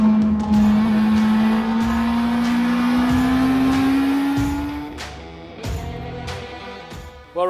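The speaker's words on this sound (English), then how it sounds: "I've brought the Honda CBR650R to Donington Park and the Ron Haslam Race School" A Honda CBR650R motorcycle lapping Donington Park circuit, its engine holding a loud, steady rising note close by for about five seconds before easing off into quieter mechanical noise and brief bursts.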